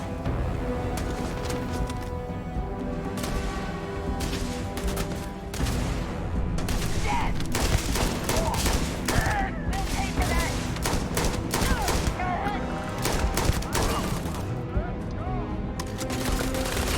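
Sustained weapon fire in the space game Starfield, dense repeated bursts of shots that carry through most of the stretch with brief lulls, loud and close, over game music and effects with a voice talking at times.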